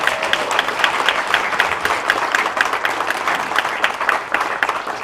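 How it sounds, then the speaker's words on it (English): A crowd applauds at an academic building grand opening, dense steady clapping sustained throughout at moderate volume without voices. "let's give a big round of applause to Dr. Bowman there"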